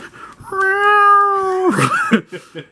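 A person's voice imitates a cat's meow, one long drawn-out wavering call followed by shorter throaty yowls, close and loud.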